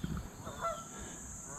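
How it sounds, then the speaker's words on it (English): Geese honk a few times at moderate distance by a river over a faint steady background hum, no talking. "geese making some vocalizations"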